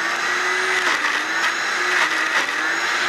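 A blender whirs steadily as it blends a peanut butter mixture with added water for puffed rice bars, a loud continuous motor drone with slight pitch dips, close and without talk.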